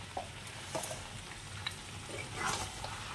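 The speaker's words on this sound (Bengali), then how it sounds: "এবার একটু মিশিয়ে নিই" A sweet dish of sugar and ghee being stirred in a pan, soft scraping strokes and light sizzling at low level, with a few brief clinks of the spoon scattered through.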